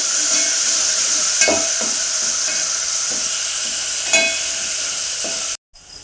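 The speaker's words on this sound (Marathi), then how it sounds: "दोन मिनिट हे चांगलं वाटण तेलामध्ये भाजून घ्यायचं" Ginger, garlic and coconut paste frying in hot oil, a steady close hiss with a few scraping stirs, stopping abruptly near the end.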